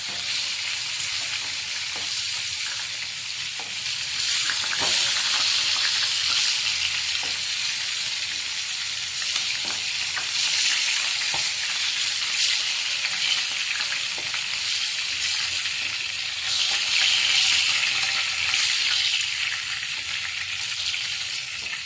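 Masala for Odia potala korma sizzles steadily in a pan, a loud continuous frying hiss with occasional stirring scrapes and clinks, with no talking.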